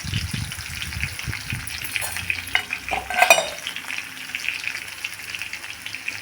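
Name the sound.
cumin seeds sizzling in hot oil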